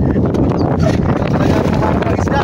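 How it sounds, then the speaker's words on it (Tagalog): Strong monsoon wind at a seaside fishing spot buffets the microphone in a loud, constant roar with gusty rustling throughout. "Ngayon mahangin."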